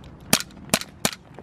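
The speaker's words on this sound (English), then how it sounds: "I want to shoot some cactus with this thing." Three sharp gunshots ring out at a desert cactus, spaced roughly evenly a fraction of a second apart, loud and close, with no talking between them.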